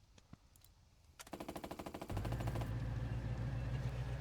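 Gunfire in the WWII tactics game Burden of Command: a quick volley of rapid, evenly spaced shots ends in a deep, sustained rumble, loud and close with no talk.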